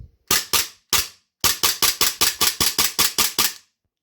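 VFC HK45 civilian-model airsoft pistol firing about fifteen sharp, close snapping shots, a few spaced at first, then a quick even string that stops abruptly.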